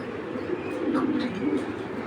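Racing pigeons coo in a low, soft, continuous murmur close by, with faint chirps above it.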